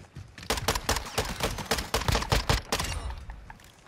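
Rapid semi-automatic gunfire from a semi-auto Mini Bak in the Call of Duty: Modern Warfare II video game, a dense burst of close, sharp shots in quick succession with no talk.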